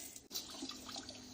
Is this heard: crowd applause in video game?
no